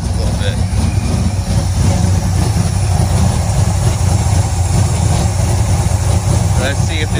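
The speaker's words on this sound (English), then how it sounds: "Fires right up. Even idles a little bit." A 1976 Chevy C20 truck engine idles steadily after a carburetor swap, a loud, continuous low rumble close by with no letup throughout.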